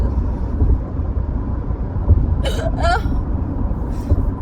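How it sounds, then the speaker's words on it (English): Hiccups from a person sound as two or three short, sharp vocal jolts in quick succession, close and fairly loud, over a low rumbling background. "I've got the hiccups."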